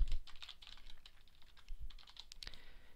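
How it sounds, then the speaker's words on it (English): Rapid typing on a computer keyboard, entering a blog post title, with a steady run of light clicking keystrokes close by and one louder key strike near the end, no talking. "we will type in test blog"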